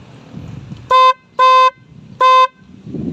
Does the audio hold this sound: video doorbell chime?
no